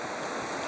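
Waves on Lac de la Ganguise in the Aude, lapping on a windy day like surf at the sea, form a steady, broadband wash with no voices, heard close for well under a second.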